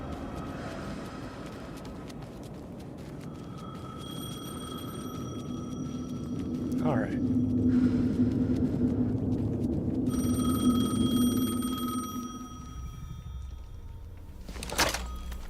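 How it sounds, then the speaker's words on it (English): A telephone rings in the video game Alan Wake 2, two long electronic trilling bursts separated by a pause, over a low ambient game drone; someone says a couple of words. "The phone again."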